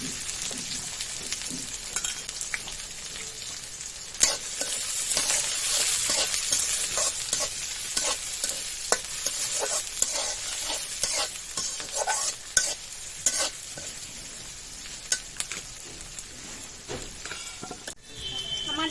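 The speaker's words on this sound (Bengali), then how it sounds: "পেঁয়াজ, রসুন আর মরিচ অর্ধেক ভাজা হয়ে গেছে।" Chopped garlic, onion and green chili sizzle in hot oil in a pan, a steady loud hiss broken by repeated scraping and clinks from stirring, with no talking.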